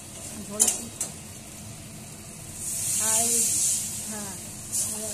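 Water poured into a hot pan of fried fish for a Bengali fish curry sets off a loud hiss and sizzle that swells and fades, with clinks of utensils and someone talking in between.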